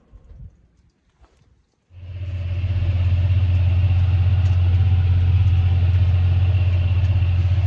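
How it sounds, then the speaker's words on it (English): A farm tractor ploughing a field in sunshine: after a near-silent start, a loud, steady low engine drone starts up around two seconds in and holds unbroken to the end, with no talking. "So we are ploughing in the sunshine."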